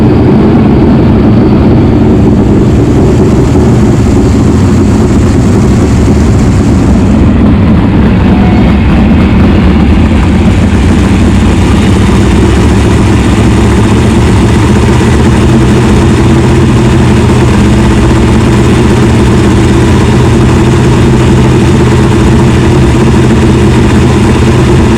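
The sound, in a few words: sprint car engine running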